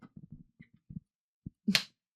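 A single sharp clapperboard clap at the start of a podcast recording, a crisp snap near the end following soft murmured voices, alone and close.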